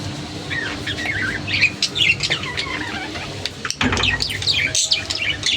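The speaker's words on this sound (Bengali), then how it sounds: "গোসল করাই দিছি তো, কিচকিচ কিচকিচ করতেছে।" Pet birds just bathed chirp and tweet in quick bright bursts, several overlapping calls close by against a low indoor hum, with a short clatter midway.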